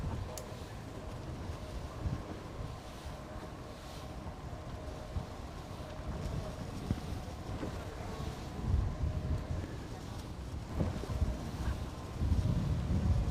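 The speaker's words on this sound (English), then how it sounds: "the breeze is definitely on here at the moment" A strong 21 to 22 knot breeze buffets a racing sailing yacht at a regatta, steady loud wind rumble against the microphone with water and boat noise and faint talk beneath.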